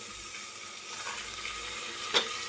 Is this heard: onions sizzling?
yes